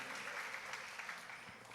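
A small group claps in a room, faint and brief, a quick patter of hands lasting under two seconds.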